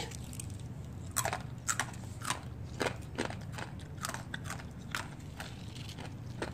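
Crispy fried jackfruit is bitten and chewed, with sharp, close crunches at irregular intervals over a low background hum, and no talking.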